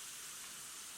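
Quiet, steady hiss of oil sizzling in a pan while frying French fries, an even crackling wash with no pauses and no voices.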